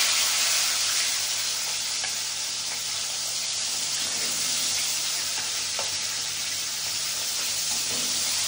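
Fish frying in hot oil with a pinch of salt added, a dense, loud, continuous sizzle and hiss, steady and close, with no talking.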